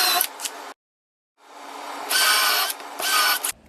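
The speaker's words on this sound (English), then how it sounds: "I had to use a drill bit to do it as opposed to the Forstner bit" Close, loud bursts of a power drill with a standard drill bit biting into wood, two long runs broken by short pauses, with a gap of silence near the start.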